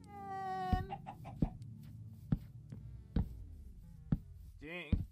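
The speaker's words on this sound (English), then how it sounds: "Chicken!" A video game chicken gives a few short, wavering clucks, the clearest near the end, set among regular sharp thumping knocks and a sustained tonal hum at moderate loudness.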